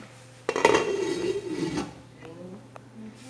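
A metal lid clanks onto a pot of cooking arroz caldo (rice porridge) with a sharp clatter, followed by a brief scraping rattle and quieter knocks.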